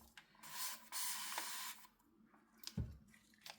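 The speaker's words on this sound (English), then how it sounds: "Let me spray these" Mica powder is sprayed onto alcohol ink flowers in a few short, soft hissing bursts from a spray bottle, followed by a quieter rub and a brief squishing thud, close and alone.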